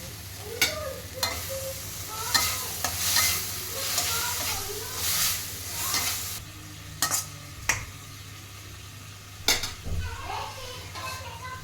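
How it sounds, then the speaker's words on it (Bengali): Spice masala with ginger paste sautés in a pan for a Bengali rui fish curry with cauliflower, giving a steady hiss and repeated sharp scrapes and knocks of a spoon against the pan, with a faint voice at times. "এবার ভালো করে এটাকে কষিয়ে নেব"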